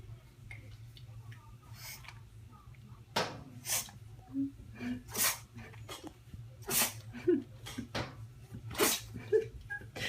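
A pug dog sneezes again and again in a quiet room, sharp close-up bursts with snorting breaths in between, some coming in quick pairs.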